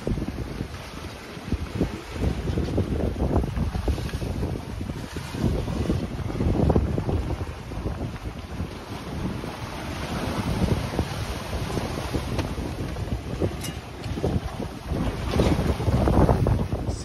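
Sailboat under sail in strong wind on open sea near a danger-marked area of rough waves, with loud continuous wind noise buffeting the microphone over rushing water and hull sounds, steady throughout with no talking.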